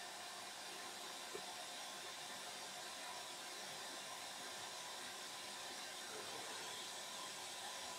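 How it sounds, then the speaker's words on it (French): A steady, broadband whirring rush of a robot's cooling fans running continuously at constant level after a firmware update, like a hair dryer, with no talking. "Les ventilateurs se sont mis en route."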